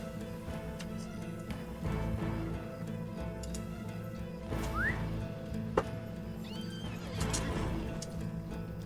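A horse in the online fantasy game Lord of the Rings Online whinnies amid a busy game soundscape of hoof clops, ticks and a brief whistle, with the neigh rising over steady background tones.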